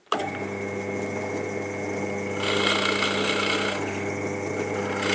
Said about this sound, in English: And I've just fitted a 15 millimeter Forstner bit here.